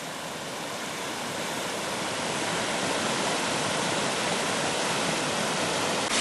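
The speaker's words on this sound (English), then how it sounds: "we've got some pretty steep waterfalls coming down" Steep waterfalls near Grisedale Beck in the Lake District hills around Patterdale roar with a loud, unbroken rush of falling water, constant and close throughout.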